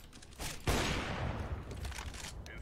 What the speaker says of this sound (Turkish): Berk sana sıktı, beni vurdu arada.